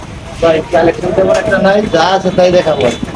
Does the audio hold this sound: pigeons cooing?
yes